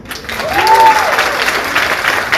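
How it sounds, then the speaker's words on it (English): Applause from the audience at an interview seminar, a loud burst of clapping that swells quickly and holds steady, with a brief voice gliding over it near the start. "Round of applause for that."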